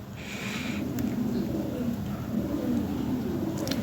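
Lahore Siraji pigeons coo in low, repeated throaty pulses, close and steady, over a murmur of background noise.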